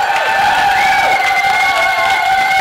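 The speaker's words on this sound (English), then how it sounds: "Let's give a big round of applause for Alec Germanovich for coming out today too." Crowd at a mall event cheering and applauding for a guest, a loud, continuous wash of voices and clapping with sustained tones running through it.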